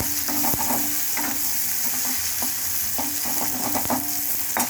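Onions frying in a pan make a continuous close sizzle and crackle, with occasional stirring clicks and scrapes against the metal, and no talking.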